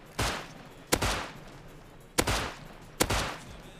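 Gunfire in the survival video game Rust: four sharp, loud shots spaced irregularly, each with a short echoing tail, heard alone.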